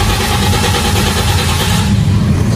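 Toyota Vios Gen 3 engine cranking without catching, a loud continuous mechanical churning with a fast regular pulse, close by and alone.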